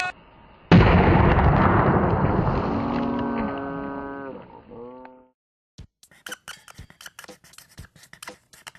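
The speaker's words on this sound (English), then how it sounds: "by adding dry ice and pop, you can pretty much explode anything you want" A loud, sudden blast from a dry ice and soda pop mixture erupts, followed by a long roaring, rushing decay with ringing tones, then scattered small crackles and pops.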